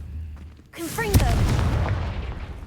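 A Confringo fire blast spell from Hogwarts Legacy bursts with a sudden loud boom and whooshing crackle, then a rumbling roar that lingers and fades over a couple of seconds.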